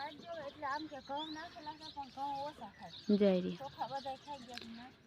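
Sparrows chirp in quick bursts close by, their high tweets mixed with people talking.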